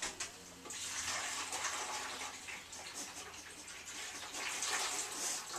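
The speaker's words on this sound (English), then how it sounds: "So, Star, would you like some water" Water pouring steadily into a pet's bowl indoors, a soft continuous splashing and trickling at moderate distance, without talking.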